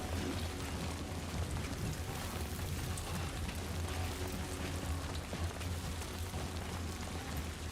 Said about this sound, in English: When it rains, you get little droplet noises through your controller.